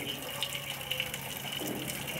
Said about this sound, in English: You see there's the shower right there.